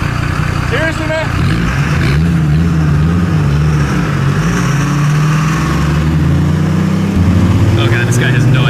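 A loud diesel truck engine idles and revs on the street, steady and close, with a rising drone near the end as it prepares to race a Dodge Viper; people talk over the engine noise.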